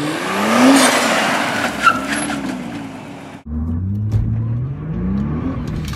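A 2016 Nissan GT-R braking hard from speed, loud engine and road roar falling away with tire noise, then a drop to a lower engine note as the car slows, close by.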